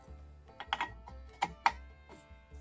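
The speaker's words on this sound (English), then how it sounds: "Next, you want to remove the nut." A socket works a nut loose on an outboard motor's lower unit, giving a few faint, sharp metallic clicks and ratchet ticks spaced irregularly over quiet background.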